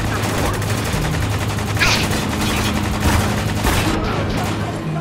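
Rapid gunfire in the shooter game Spec Ops: The Line, with loud, dense bursts of automatic fire and booming shots running continuously over a low engine drone.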